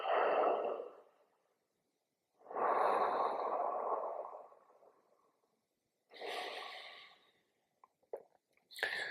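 Slow, steady circular breathing, close and audible: long rushing breaths come in separate waves with short silent gaps, followed by a few quicker, sharper nasal puffs near the end.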